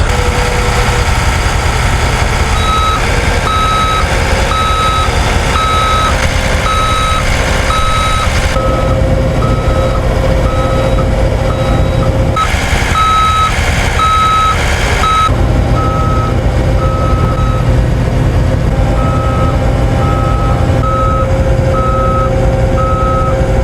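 Skid steers push to free a stuck load, their diesel engines droning loud and steady while a backup alarm beeps in a regular repeating rhythm throughout, with a brief break in the middle.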